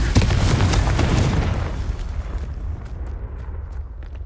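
The Confringo explosion spell in the video game Hogwarts Legacy goes off as a loud, deep boom that rumbles and slowly fades, leaving scattered faint crackles and debris ticks behind.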